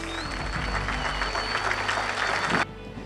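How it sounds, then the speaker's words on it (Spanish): Applause from a crowd at a national civil police graduation ceremony for new officers, a steady wash of many hands clapping at moderate distance that cuts off abruptly near the end, with no talk over it. "Un fuerte aplauso para mis policías."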